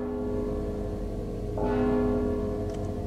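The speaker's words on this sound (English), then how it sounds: "Don't you hear the bell?" A single bell rings out in the stealth video game Mark of the Ninja, with a resonant tone that swells midway and lingers over a steady droning game ambience.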